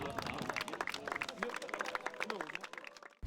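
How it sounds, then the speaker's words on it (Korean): Warm applause welcoming soldiers home from a South Sudan deployment, steady clapping from a gathered crowd heard at moderate distance beneath a busy murmur of voices and a speaking narrator. "뜨거운 박수로 맞아줍니다"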